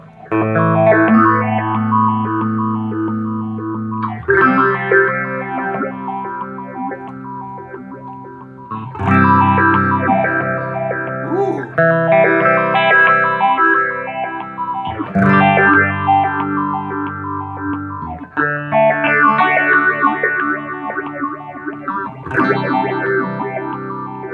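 An electric guitar plays strummed chords and riffs through a Spaceman Explorer phaser pedal, the tone swirling and shifting brightly, loud and continuous with no speech.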